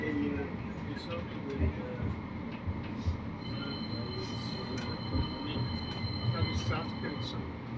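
A tram rolls on rails in Birmingham, its steady low rumble carrying thumps over rail joints and a faint high whine, heard from inside with people talking nearby.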